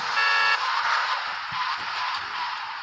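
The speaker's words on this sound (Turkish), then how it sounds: "Sıfırla da korna çalıyoruz." A car horn in the GTA 3 mobile video game sounds loud and close, one sustained blare lasting about half a second, followed by steady engine and traffic noise with no talking.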